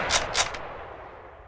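Two or three quick, sharp gunshots fire in succession in the video game STALKER, followed by a fading echoing tail.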